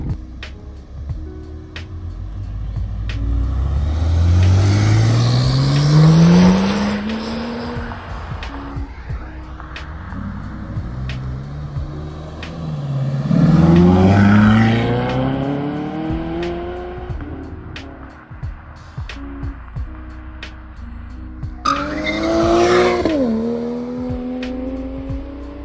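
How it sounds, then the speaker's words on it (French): Corvette Z06 with a 7-litre naturally aspirated engine at a charity rally event, accelerating hard in three loud runs that sweep upward through the gears, roaring past and fading, with crowd noise in between. "c'est vraiment la version avec le plus gros moteur, donc le 7 litres atmosphérique"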